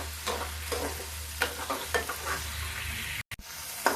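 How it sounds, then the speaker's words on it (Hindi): An onion-garlic spice paste for pea nimona fries in oil in an iron kadhai, a close, continuous sizzle with rhythmic scraping stirs and a brief cut near the end. "इस मसाले को जब तक इसका तेल नहीं किनारे पे आता छूटता तब तक हम इसको भूनेंगे।"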